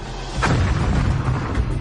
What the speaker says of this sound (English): Suddenly, an explosion rips through a Humvee.